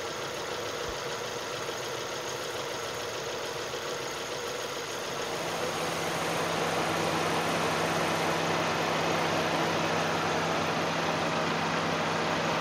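A 2002 Nissan Sentra engine idles steadily at low revs with its cooling system being bled of trapped air, a constant close drone that grows slightly louder and fuller about halfway through, with no talking.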